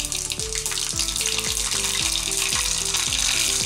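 Mustard seeds spluttering in hot oil while cooking tomato chutney, a continuous crackling sizzle that holds steady throughout under a rhythmic melodic background tune.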